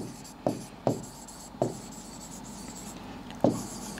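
Marker or chalk strokes on a board produce four sharp tapping scratches at uneven intervals, near and moderately loud over a faint room hum, during a chemistry lesson with no talking.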